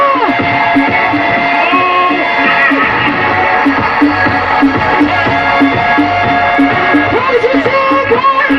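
A rally crowd in front of the National Assembly keeps up a continuous loud roar of shouting and cheering, with a voice heard over an amplified system.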